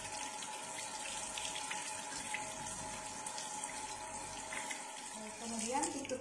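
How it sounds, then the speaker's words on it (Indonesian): Hands rinsed under a running tap during handwashing before an IV insertion, a steady hiss of flowing water that changes briefly near the end as the hands move under the stream. "kemudian bilas kembali kedua tangan menggunakan air"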